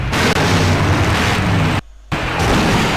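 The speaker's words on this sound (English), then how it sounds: "Now that's an explosion, ladies and gentlemen." Loud, continuous explosion blast in the video game Full Throttle, a dense roaring boom that fills the clip, briefly cutting out near two seconds before rumbling on.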